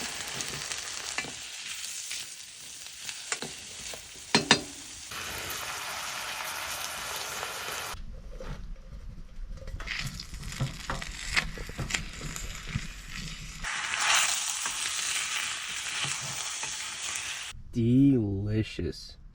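Vegetables with garlic sizzle and crackle in hot cooking oil in a pan at a winter camp inside a hot tent, loud bursts of frying broken by stirring and pauses, with a voice briefly heard.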